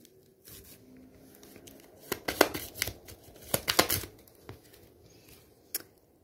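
Tarot cards handled up close: soft shuffling, flicking and sliding, with a cluster of crisp card snaps and rustles in the middle and a few scattered flicks afterward, quiet overall.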